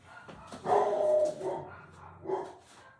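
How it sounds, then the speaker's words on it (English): Dogs bark indoors at moderate distance: one drawn-out bark or whining yowl followed by a couple of shorter barks, with no talk over them. "Sorry for the dogs."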